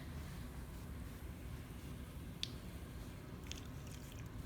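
Clay being coned down on a spinning pottery wheel, giving a steady wet squishing and rubbing over a constant low motor hum, close and continuous with a couple of faint squeaks and no talk.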